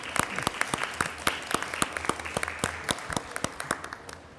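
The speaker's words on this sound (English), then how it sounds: "a round of applause for all of them" An audience at a climate action panel event on multi-level governance claps for the panelists, a modest, fairly sparse round of individual claps that stays steady, then thins out over a few seconds.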